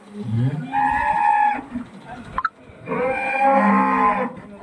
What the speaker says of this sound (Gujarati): આપણા ઢોરા બધા રણકવા મળ્યા છે